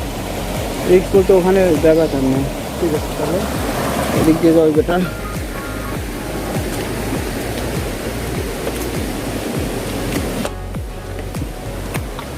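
Khoiyachora waterfall sends out a constant broad roar of rushing water, with people talking over it nearby.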